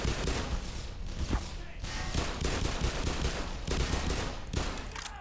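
Enemy soldiers fire guns in Black Mesa, a rapid stream of close, loud shots in dense bursts with brief gaps, forming a continuous firefight.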